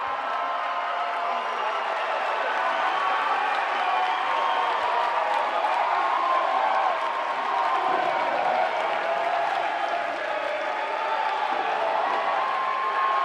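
At an NCAA Division II swimming national championship, a home crowd in a natatorium cheers and applauds as a loud, continuous roar of clapping and shouting that holds steady the whole time.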